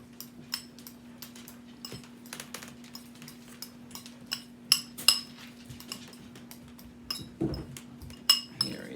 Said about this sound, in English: Just mash. Keep mashing.